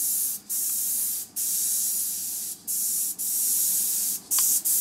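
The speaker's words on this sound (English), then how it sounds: "Just check that it's spraying okay." A paint spray gun spraying base colours blasts in several long bursts of loud, steady hiss, separated by brief pauses, the last few shorter and choppier.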